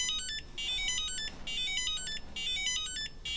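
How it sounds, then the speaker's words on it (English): An electronic buzzer on a freshly built PCB sounds in loud, rapid repeating beeps in bursts with brief gaps, close and alone with no talk. "Buzzer works."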